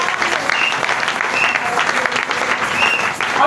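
A church congregation at a Sunday service bursts into sustained applause and cheering, a dense, loud wash of clapping that holds for the full few seconds.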